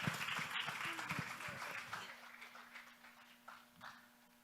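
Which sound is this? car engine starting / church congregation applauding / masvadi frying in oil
church congregation applauding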